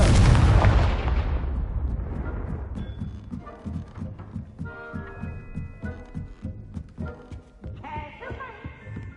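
A Confringo blasting spell goes off in Hogwarts Legacy, a loud booming explosion at the start that rumbles and fades over a few seconds, followed by steady thumping game music and effects.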